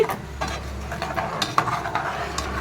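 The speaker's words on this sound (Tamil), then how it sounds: "இந்த மாதிரி கிண்டிக்கிட்டே இருக்கணும்" A spoon stirs Tamil-style yogurt curry (thayir kuzhambu) in a pot with soft, irregular scrapes and clinks over a low steady hum and faint sizzle, fairly close and without talk.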